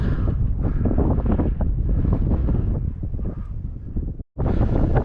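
Strong winter wind near a Lake District summit buffets and roars across the microphone in continuous gusts, with a brief drop to near silence before the rushing resumes.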